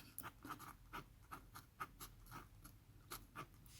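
A fountain pen loaded with Kyoto series Hisoku ink scratches faintly across paper in short, repeated strokes, soft and close with small gaps between marks.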